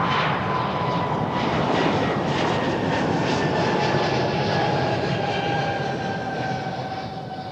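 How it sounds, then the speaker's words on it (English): A Swiss Airlines airliner departs Amsterdam Schiphol for Zurich, its jet roar loud and steady throughout before easing slightly at the end as it pulls away. "That was the Swiss Airlines off to Zurich"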